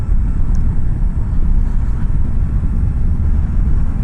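A 2024 Suzuki V-Strom 800 motorcycle engine runs steadily at idle, a loud, continuous low rumble with no speech over it.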